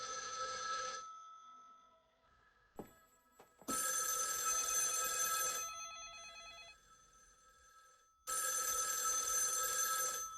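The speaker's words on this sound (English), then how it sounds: "the film concludes with the chilling sound of telephones ringing all over the world" Telephone bells ring in loud bursts separated by short silences, with a couple of faint clicks in between.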